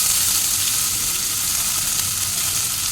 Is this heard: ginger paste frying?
yes